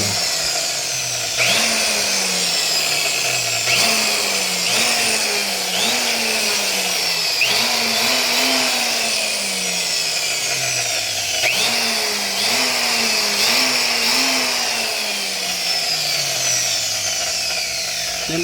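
A rewound cut-off machine motor runs loudly and close, whining steadily while its pitch repeatedly rises and falls in waves as it spins up and slows, with no speech over it.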